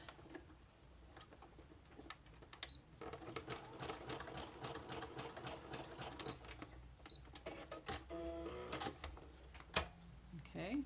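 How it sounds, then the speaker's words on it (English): A home sewing machine stitches a flat tassel fringe onto a junk journal page, a quick steady whirring chatter in short runs, faint and close, with someone speaking softly over it. "I'm going to sew it."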